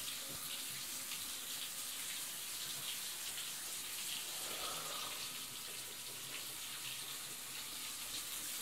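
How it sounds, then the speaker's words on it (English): Water runs steadily from a bathroom tap into a tub as it fills, a constant close gushing hiss that holds at an even level throughout with no voices. "I just fill up with the water just from here."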